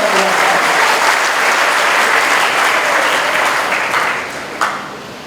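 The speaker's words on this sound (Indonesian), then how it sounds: "Tepuk tangan untuk kalian semua karena tinggal 1 langkah." A hall full of cadets from correctional and immigration polytechnics claps in a loud, dense burst of applause that holds steady, then thins and tapers near the end with a single sharp clap standing out.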